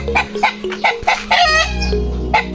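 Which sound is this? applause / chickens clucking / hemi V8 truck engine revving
chickens clucking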